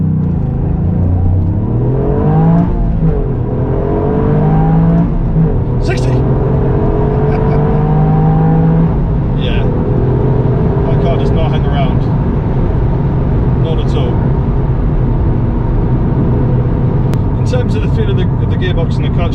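A Toyota GR Yaris pulls away hard from standstill towards 60 mph, its engine climbing through rising revs with brief dips at gear shifts, loud and steady throughout while someone talks over it.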